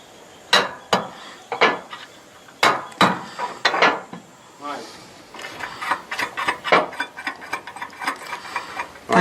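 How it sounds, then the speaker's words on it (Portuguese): A bolt is tightened on a solar panel roof rail during a rooftop installation, giving a series of sharp metallic ratcheting clicks and clanks in irregular bursts, close and fairly loud. "Fazendo exatamente o ajuste aqui do parafuso."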